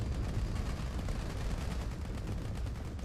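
Heavy, continuous weapon fire rattles without pause in space combat in the video game Starcore, a dense, loud barrage of rapid shots with low rumbling impacts and no talking.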